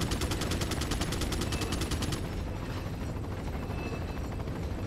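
Rapid automatic gunfire from the video game Resident Evil 4, a dense continuous rattle of shots for about two seconds that then gives way to a steady noisy rumble of game sound.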